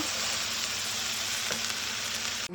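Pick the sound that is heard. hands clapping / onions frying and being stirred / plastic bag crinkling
onions frying and being stirred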